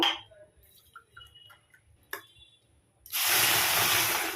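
Water is poured onto a cup of sugar in a pot to make syrup, a steady splashing pour starting suddenly after a few quiet ticks and clinks.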